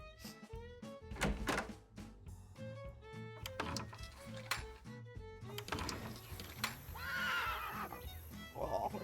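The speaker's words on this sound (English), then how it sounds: "Oh, horsey." A horse neighs and whinnies in the Nancy Drew: The Secret of Shadow Ranch video game, several loud calls over ranch sounds with background music and thunks.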